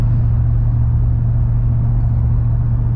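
A Ford F250 Super Duty pickup's engine holds a steady, loud, low drone while towing a trailer, with road rumble underneath and no talk.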